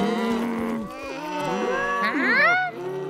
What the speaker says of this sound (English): They're just cows. They're Scottish cows.